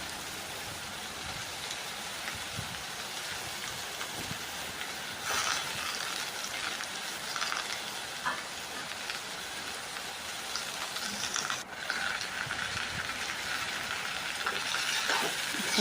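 Drumstick leaves and flowers sautéing in a pan, a soft continuous crackling sizzle like light rain, fairly quiet and even, with a couple of brief scraping bursts.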